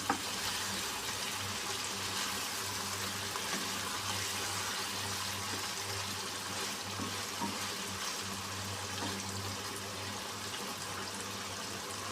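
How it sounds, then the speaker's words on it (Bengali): Chicken with spices and flat bean seeds frying in a pan gives a steady, close sizzle that runs unbroken throughout, with faint stirring movements underneath and no voices. "আমি আর একটু সময় দুই তিন মিনিট কষিয়ে নেব"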